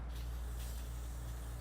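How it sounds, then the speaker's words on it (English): An aerosol can of spray lubricant hisses onto the axle of a garden wheel hoe in one steady close burst lasting throughout, with no talking. "give it a little spray"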